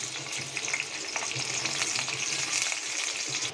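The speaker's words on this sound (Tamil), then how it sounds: "அப்புறம் இதில் இப்போ காஞ்ச மிளகாய் போட்டுட்டேன்." Dried red chillies fry in a little oil for a red chutney, a steady close crackling sizzle with scattered pops and faint stirring throughout.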